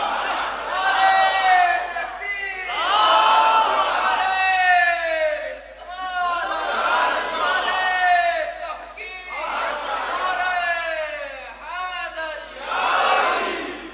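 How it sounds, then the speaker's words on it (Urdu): A large gathering at a religious sermon chants slogans in loud rhythmic waves, a leader's call answered by massed voices, repeating about every two to three seconds. "آپ نعرے بھی لگاتے ہیں"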